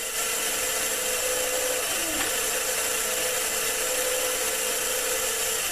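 Small power drill from a set of cheap Chinese tools boring a shallow pilot starting hole at a center-punch mark, a steady high whine running the whole time at close range with no talk.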